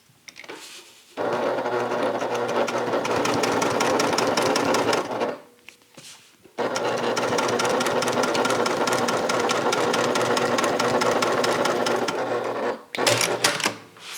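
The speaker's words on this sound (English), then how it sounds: "then we're going to top stitch on the lining" A sewing machine top-stitches a bag lining in two long, steady bursts of rapid close stitching, each stopping abruptly, followed by a brief final spurt.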